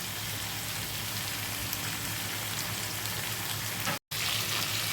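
Steady sizzling of tomatoes sautéing in a pan with salt and turmeric, a continuous soft crackling hiss with a brief dropout near the end.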